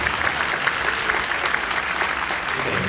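Loud, sustained applause from a church congregation at a New Year's Eve service at St. Francis Catholic Church, dense clapping filling the space steadily throughout with no speech over it.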